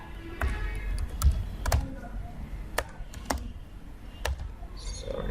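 Close keystrokes on a computer keyboard while typing a document in MS Word, irregular clicks and taps over a low steady background hum.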